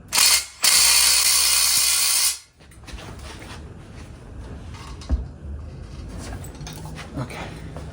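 A ratchet clicks rapidly while loosening 14 mm bolts on a Volvo 740/940 transmission cross member, a loud sustained burst for about two seconds, followed by quieter clanks and handling noises.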